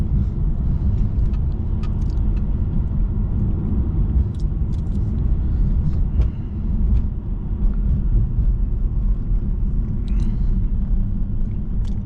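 Mercedes-AMG E63S engine running quietly, a low, steady rumble heard from inside the car while driving, with faint ticks and clicks above it and no talking.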